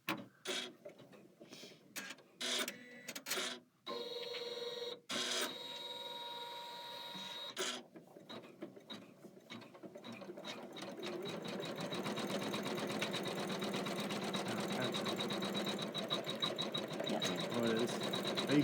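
A Kimberbell embroidery machine stitches a leaf placement line on plush velvet, first in stop-start bursts of rapid mechanical chatter, then settling into a steady, continuous whirring hum, close by and loud.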